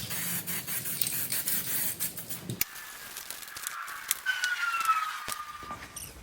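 An aerosol can of John Deere paint hisses as a light coat goes onto a lawn tractor deck, a close, steady spray broken by brief pauses and faint rattles, with scraping handling noises partway through.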